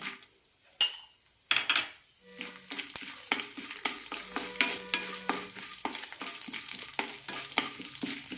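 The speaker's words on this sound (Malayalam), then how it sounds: "പരിപ്പുകൾ കളർ മാറുന്നത് വരെ ഒന്ന് വഴറ്റിയെടുക്കാം" Chana dal, urad dal and peanuts sautéing in hot oil, with a few clanks of the pan at first, then rhythmic spatula scrapes and stirs over a quiet sizzle, close by.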